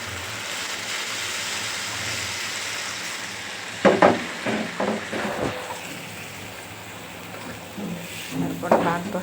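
Tomatoes cook down with spices in a pan, giving a steady soft sizzle with bursts of stirring and scraping, while someone talks over the cooking.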